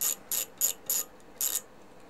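A ratchet fitted with a 2.5mm socket loosens Allen screws on an Elegoo Mars Pro resin 3D printer. It gives four or five short, crisp bursts of clicking in an uneven rhythm, close and fairly quiet, with no talking.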